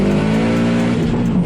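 Turbocharged Subaru four-wheel drifting with wheels spinning, heard from inside the car: a loud, steady engine roar with a harmonic drone and tire noise, sustained throughout with no break.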